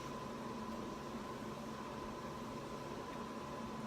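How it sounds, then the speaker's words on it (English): An air conditioner runs in a bedroom with a steady, faint broadband whoosh and a low hum, unchanging throughout with no voices. "I have the air conditioner on because it's summer"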